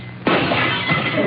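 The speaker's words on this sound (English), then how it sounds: "And a shattering of glass." Glass shattering sound effect on a 1947 radio show: a sudden crash after a quiet moment, followed by a second of tinkling, scattering debris, heard alone without talk.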